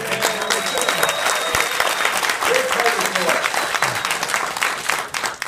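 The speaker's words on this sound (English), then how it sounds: "So give Michael and his team another round of applause" An audience at an advocacy program in Richmond, Virginia gives a round of applause: sustained, crisp clapping from many hands, with scattered voices and cheers mixed into the crowd throughout.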